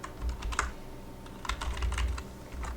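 A computer keyboard clatters in quick bursts of close, crisp keystrokes while coding, with short pauses between runs and no talking.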